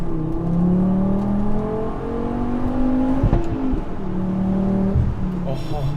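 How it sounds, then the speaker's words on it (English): A Volvo V70R with a custom cat-back exhaust pulls at wide-open throttle from a stoplight, its engine note rising through the gears with shift breaks, loud and close from inside the car. "let's do a nice wide open throttle pull."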